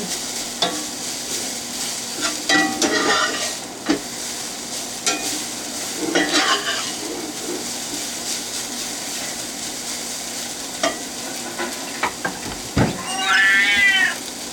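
Katie the cat meows in several short, wavering cries, the clearest and longest near the end, over the steady sizzle of broccoli and homemade mung bean sprouts quick-frying in a pan.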